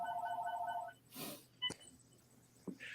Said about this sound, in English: if this phone doesn't stop ringing